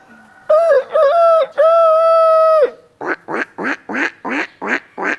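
A voice imitates a rooster crowing with a few long, wavering calls. A run of seven short, evenly spaced duck-like quacks follows, loud and close with no other sound.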